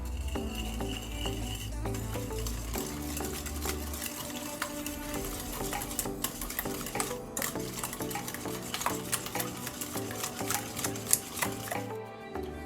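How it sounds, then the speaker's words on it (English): Eggs and sugar whisked together in a bowl, a continuous rapid clicking and scraping of the whisk against the sides, close and fairly quiet, with a low hum in the background early on. "4 eggs, half a cup of sugar. Now we're just going to whisk this together."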